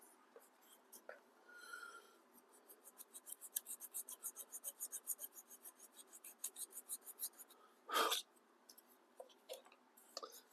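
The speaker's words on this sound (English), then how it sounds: "Sanding sideways on the other one." A part for the Pink Ride build is hand sanded with quick rhythmic back-and-forth rasping strokes, soft and close, with a few short pauses and a louder scrape near the end.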